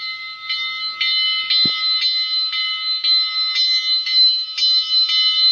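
A bright, high-pitched bell from a model steam locomotive's DCC sound decoder, on a Mantua 2-6-6-2T logging locomotive, rings steadily in repeated strikes, about two per second, with a single low thump partway through.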